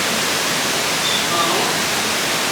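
Water pours at the Maribaya waterfall in Bandung, Indonesia, a loud, steady hiss of rushing water filling the whole clip without letup.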